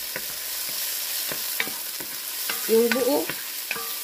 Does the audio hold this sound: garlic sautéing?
yes